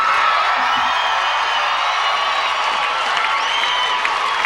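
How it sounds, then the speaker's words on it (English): A large crowd in Forest Place, Perth, cheers and applauds at the Sydney 2000 Olympic parade, a broad sustained roar of clapping and whoops from a distance, fairly loud and steady throughout. "a huge crowd in the city of Perth gathered right here in the heart, in the Forest Place"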